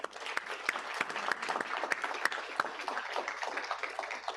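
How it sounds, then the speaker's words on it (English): A city council meeting audience applauds Samantha, a steady round of dense clapping that carries evenly for several seconds with no talk over it. "I'd like to give Samantha a big round of applause."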